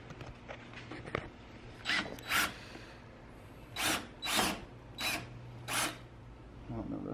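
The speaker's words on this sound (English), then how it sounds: "Yeah, I think you start using the Dremel." A Dremel tool cutting parts on a supercharged BMW M3, heard as a series of short, loud grinding bursts with pauses between them, close by, over a steady low background hum.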